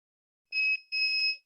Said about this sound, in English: If you want, you can connect into the buzzer to test your pin.